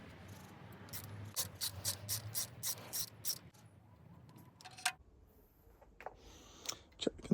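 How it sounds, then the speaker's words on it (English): A ratchet with a deep socket works on spark plugs of a 1999 Renault Clio 1.4, giving a steady series of sharp clicking pulls, then a pause and a few scattered clicks and knocks nearby. "If you don't have a specialist socket, then just use a deep socket to get these off."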